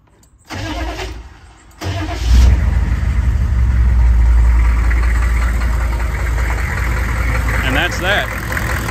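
A 1992–2000 GM 6.5-liter turbo diesel truck engine cranks briefly, catches and settles into a loud, steady, knocking diesel idle, close by, after a fuel filter replacement.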